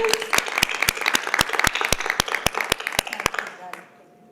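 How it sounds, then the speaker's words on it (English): Audience applause at a book reading event for local authors, a steady patter of many hands clapping with sharp individual claps standing out, fading out abruptly near the end. "Can we have a round of applause?"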